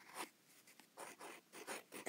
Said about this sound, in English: So first I'm going to write her name.